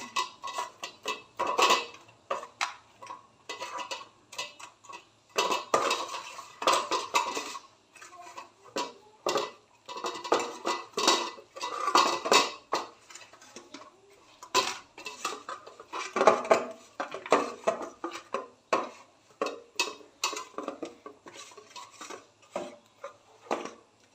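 Fish being hand-mixed with salt, turmeric and chili powder in a kitchen, giving a run of close, irregular clinking and scraping on a dish or bowl, moderately loud with brief pauses, no talk.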